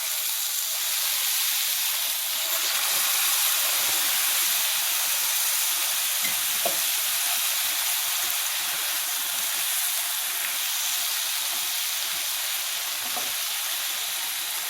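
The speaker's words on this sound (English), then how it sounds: "now I'm going to add some of my sauce" Homemade sauce hitting a hot frying pan for chicken chilaquiles, a loud continuous sizzle and hiss that holds steady throughout, with faint stirring scrapes and no voices.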